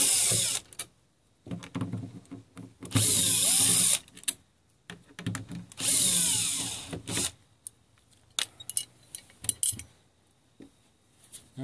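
Power drill backing Phillips screws out of an RV door lockset, in several short whirring bursts separated by pauses and small clicks of handling, close and fairly loud with no talking.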